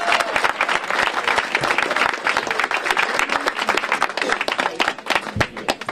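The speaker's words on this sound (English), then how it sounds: "So let's give them a round of applause." Audience applause at an evening award ceremony for a curling club's Paralympians, honoring a piper and drummer: a dense, loud wash of many hands clapping continuously, with a few sharp close claps and a faint murmur of voices underneath.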